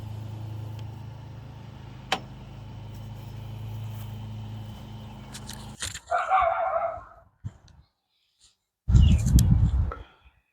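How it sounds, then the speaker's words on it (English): Dogs bark outdoors in two separate bursts, the second louder and closer, after a low background rumble and a few sharp knocks. "If y'all hear my dogs bark,"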